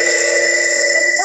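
A mobile phone rings steadily during an online meeting, a loud electronic ringtone holding level tones for the whole moment, with no break in the sound and nothing else heard over it.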